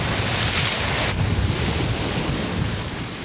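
Strong sea waves and surf with heavy wind buffeting the microphone, a loud continuous roar of rough open water.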